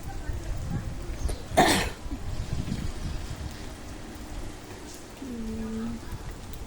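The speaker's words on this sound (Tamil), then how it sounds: "இங்கே இந்த மழை விட மாட்டேங்குது" Steady, heavy rain keeps up a constant, wash-like hiss outdoors, with a single louder thump or cough near the start and a faint tonal hum late in the clip.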